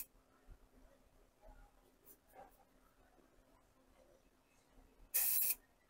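A short, sharp hiss of an aerosol spray can bursts out for about half a second amid quiet background rustling.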